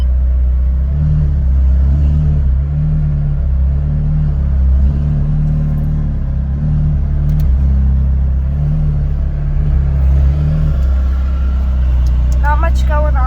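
A Porsche reverses at a Cars and Coffee gathering, its engine a steady low rumble with slight pulsing throughout, close and fairly loud, with people chatting in the background.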